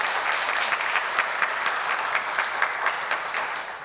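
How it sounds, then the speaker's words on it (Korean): A church congregation at a Sunday worship service applauds, a steady, full round of clapping with crisp individual claps standing out, moderately loud with no talk over it. "감사하다고 한번 박수 한번 해주시겠습니다"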